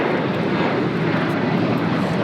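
A Delta Airlines Boeing 737-900ER arriving from Miami at LAX roars steadily with a loud, broad jet engine rumble throughout, with no voices present.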